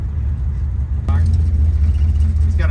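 A car with an open exhaust drones loudly at low pitch while driving, the rumble stepping up suddenly midway as the engine pulls harder, with someone talking inside the cabin.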